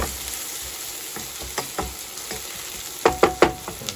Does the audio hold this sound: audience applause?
no